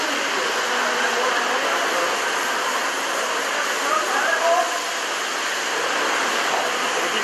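A SMACO scuba air pump runs with a loud, constant broadband roar and hiss that stays steady and close throughout.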